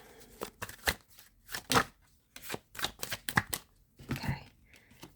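Tarot cards being shuffled in quick bursts of riffling and flicking, close up, with short pauses between each round.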